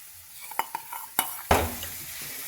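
A potato and onion mix is stirred in a pan, with a few distinct scraping and tapping strokes of a utensil over a faint sizzle, close and fairly quiet, with no talking.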